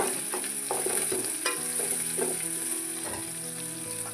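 Onion with crushed ginger and garlic frying in a pan for a village-style avarekalu gravy, a steady close sizzle broken by several sharp clinks and scrapes of a spoon stirring.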